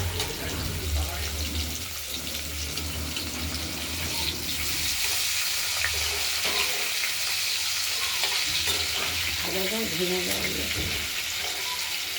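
Paneer cubes frying in a pan, the first half of the batch for a potato and tomato paneer curry, make a constant close sizzle and crackle. Light stirring clatter comes through, and a voice talks over it near the end.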